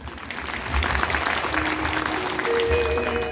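A crowd at a Shiv Mahapuran religious discourse breaks into another round of applause, dense and continuous, with a faint held musical tone rising near the end.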